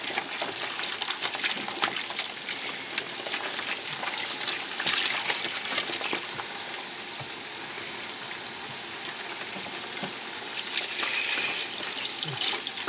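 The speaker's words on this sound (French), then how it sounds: "vous rincez la peau comme il faut" A deer hide is rinsed in lukewarm water, with continuous close splashing, trickling and sloshing throughout and a few sharper drips and slaps.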